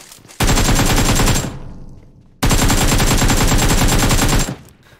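Automatic gunfire in the mobile shooter game PUBG Mobile, two loud sustained bursts of rapid shots, each about a second or two long, separated by a short pause.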